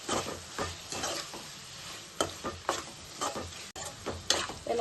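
A spoon stirs turmeric and chili powder through gongura curry frying in a pan, making repeated scraping strokes over a soft steady sizzle, close and clear with no voices.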